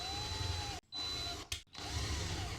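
A power drill boring a hole through a wooden workbench, a steady loud whirring drone close up that cuts out twice briefly before resuming.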